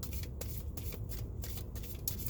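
Tarot cards shuffled by hand in quick, repeated riffling bursts, soft and close, with brief pauses between passes and no talking.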